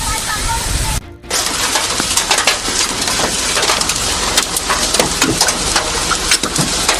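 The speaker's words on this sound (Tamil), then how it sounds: "காரிமங்கலம், அனுமந்தபுரம் சுற்றுவட்டாரத்தில் ஆலங்கட்டி மழை பெய்தது." Hail pelts down hard around Karimangalam and Anumanthapuram, a dense, loud clatter of countless sharp ice impacts rattling continuously after a brief pause near the start.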